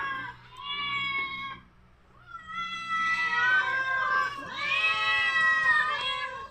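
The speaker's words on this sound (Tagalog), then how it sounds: "Ayan yung pusa ko rito sa loob ng bahay." A house cat meows repeatedly indoors, producing long, loud, drawn-out wailing calls with a short pause in between, heard with no talking over them.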